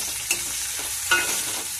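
Red-ripened green chillies frying in hot oil, giving a loud, continuous, close hiss with a couple of brief stirring clicks.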